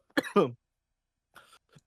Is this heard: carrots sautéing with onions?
no